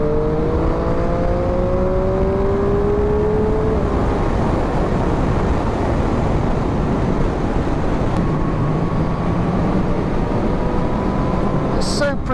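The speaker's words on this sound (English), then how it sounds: "Open the throttle and just hold on for dear life" A Triumph Street Triple motorcycle runs hard at full throttle with a loud, sustained engine roar, a rising tone early on, and heavy wind rush throughout.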